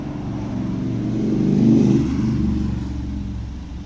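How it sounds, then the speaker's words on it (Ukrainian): A 2011 Volvo V60 with a 1.6-litre D2 diesel engine idles smoothly and quietly, a low steady rumble that swells gently in the middle before settling back, with no voices over it. "заведений, рівно тихо працює, ніяких парів, димів, нічого немає"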